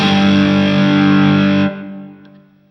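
A Suhr guitar with silent single-coil pickups plays through a high-gain amp, a thick distorted chord ringing loud for over a second before it is cut off and decays into near-silence with no hum.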